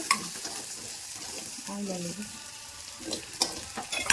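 Garlic fries in a hot pan, a steady close sizzle with occasional stirring scrapes and light clicks against the metal, no talk over it.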